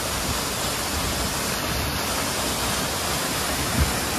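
A waterfall in the Atera valley gives a continuous, broad roar of falling water, loud and steady and close by, with no voices.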